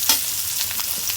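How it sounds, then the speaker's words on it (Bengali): Onion and green chili fry in hot oil while being stirred, a loud close sizzle with soft scraping pulses throughout the short stretch, no talk. "তেলের মধ্যে পেঁয়াজ, কাঁচামরিচ,"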